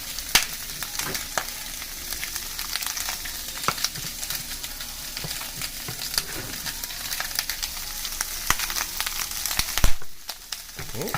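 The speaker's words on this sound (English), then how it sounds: "Right now, I'm gonna add the garlic." Garlic frying in a pan for chop suey, a dense close sizzle with scattered sharp pops and crackles running steadily throughout, with a brief drop near the end.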